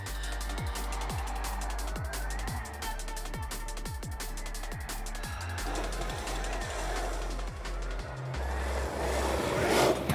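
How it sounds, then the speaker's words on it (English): SE Tundra 4x4 electric ATV on dry asphalt with low-pressure tires, a high motor whine rising and falling with repeated low thumps, then a rougher scrubbing tire noise building toward the end. "even on a dry asphalt with low pressure tires, there is enough power to do some drift on the quad"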